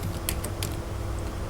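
Quick keystrokes on a computer keyboard typing youtube.com, a short burst of light clicks over a steady background hiss.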